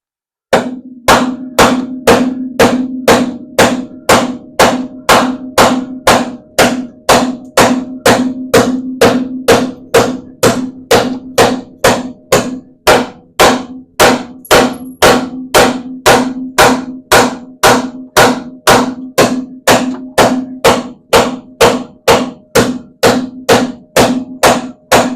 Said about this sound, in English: Another thing I can do is some hammer forming on the shock towers, rather than notch them back, cut and weld and all that.